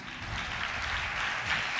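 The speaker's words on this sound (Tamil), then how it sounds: "கைத்தட்டி." A church congregation claps together at a mount prayer service, a brief dense burst of many hands, steady and moderately loud.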